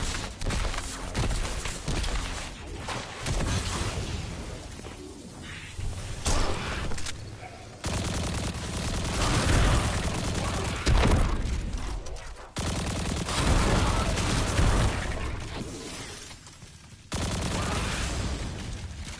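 Sustained gunfire from a weapon in Destiny 2 during the Festival of the Lost event, loud rapid shots rolling in several long stretches separated by abrupt cuts, with no talking.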